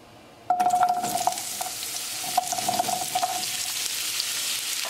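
Sliced yellow crookneck squash drops into hot oil in a pan over a high flame, bursting into a sudden loud, steady sizzle with a few light clinks, close and continuing without voices.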